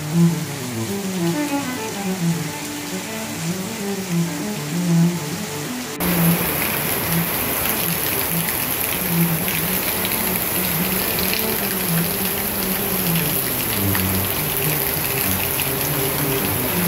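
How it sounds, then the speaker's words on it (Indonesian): Sudden heavy rain in Bali, a steady close hiss of water pouring down on surfaces that grows denser and brighter partway through, continuous with no voices. "beginilah hujan tiba-tiba hujan ya"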